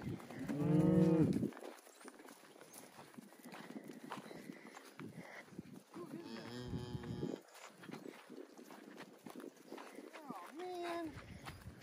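Cattle mooing as they are moved out to their first spring grass on a farm: one loud, close, drawn-out moo opens, later lowing follows, with people talking and calling over the herd.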